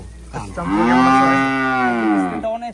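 A Holstein Friesian calf gives one long, loud, close moo that rises and holds steady for nearly two seconds before tailing off, with quiet barn background around it.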